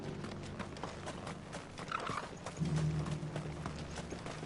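Steady clip-clop of a horse's hooves walking on its way back to the stables, close by and continuous, with a low rumbling background and no speech.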